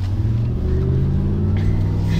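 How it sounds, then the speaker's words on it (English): A RAM TRX truck rumbles at close range with its supercharger blower whining, giving a steady, loud engine drone with a faint rising tone toward the end. "You can hear the blower, dude."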